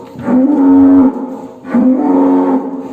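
Cattle low twice in a barn housing sacrificial cows such as Simmental, Limousin, PO and Madura breeds; two long, loud, close moos, each about a second, separated by a short pause.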